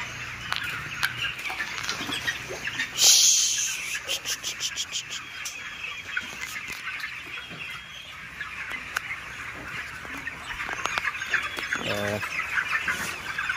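Many chickens, about 4,000 chicks, cluck and chirp continuously in a crowded 200-by-26-foot poultry shed, with a brief burst of wing flapping and scattered rattling noises.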